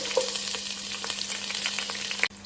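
Onions frying in hot ghee make a dense, steady sizzle with small crackles and a faint underlying hum, close by and without talk.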